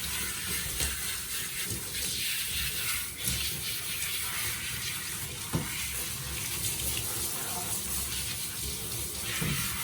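Water running from a tap into a bathtub while a dog is rinsed, a steady close splashing hiss with a few brief knocks.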